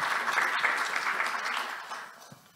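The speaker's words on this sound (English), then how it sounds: "please give them a round of applause" A library lecture audience applauds in a brief burst of steady clapping that fades out over a couple of seconds.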